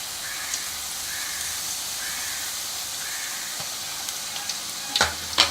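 Potato slices frying in hot oil for chips give a steady, close sizzle and hiss with a few soft clinks from a utensil near the end.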